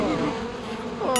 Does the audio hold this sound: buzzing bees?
yes